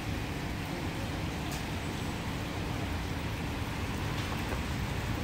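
Heavy June downpour in Tashkent near the Chilanzar metro station, a steady dense hiss of rain with some passing road traffic mixed in, continuous and fairly loud throughout with no talk.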